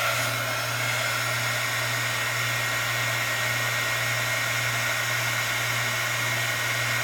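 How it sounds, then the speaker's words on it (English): A heat tool blows steadily as it heat-sets embossing powder on a distress-ink resist piece, a continuous loud whirring hum with airy hiss, unchanging throughout. "now I'm going to heat set that. So bear with me as I emboss this."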